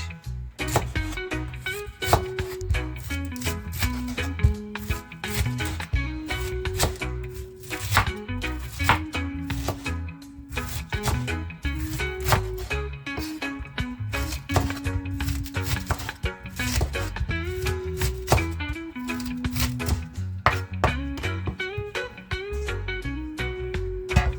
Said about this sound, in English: So now I'm gonna start cutting my cabbage.